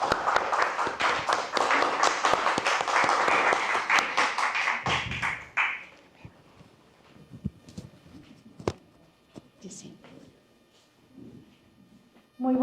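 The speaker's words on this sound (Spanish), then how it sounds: "Vamos a recibirla con fuertes aplausos." An auditorium audience at an Agroexpo event on workplace sexual harassment claps loudly and densely for about five seconds, then the applause breaks off into scattered claps, taps and thuds, with quiet talk near the end.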